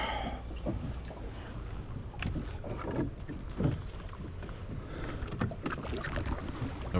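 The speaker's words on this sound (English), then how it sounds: "I've got the Newport NT300 electric engine on it" A jon boat fitted with a Newport NT300 electric motor moves across a lake, giving a steady low rumble and water wash with some wind buffeting the microphone, no voices present.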